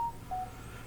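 A mobile phone gives a short notification chime: two brief clean tones, the second slightly higher and longer, fairly faint over a soft room background.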